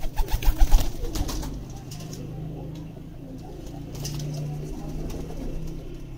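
A breeding pair of pigeons coos in low, repeated throaty rolls, close and steady throughout, with a few brief louder rustles near the start and faint talk in the background.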